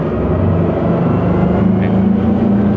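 A 10 m Scanner Envy 950 Maxi-Rib motorboat runs at full throttle on rough sea, its engine a loud, steady, low droning roar with rushing water.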